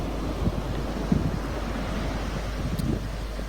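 Wind and surf at the westerly end of Ledge Beach looking across the harbour, a steady rushing wash with low buffeting wind noise on the microphone, continuous and moderately loud with no voices.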